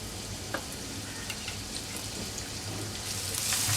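Onion drops into hot oil seasoned with asafoetida in a home kitchen, giving a steady crackling sizzle that swells louder near the end, with small pops and spatters.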